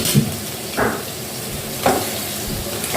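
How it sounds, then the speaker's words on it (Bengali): Chicken pieces are poured into a hot pan for a red chicken curry and fry with a steady close sizzle, broken by two louder bursts of hissing as the pieces hit the oil and are stirred. "এবার মাংসগুলো এর মধ্যে ঢেলে দেবো"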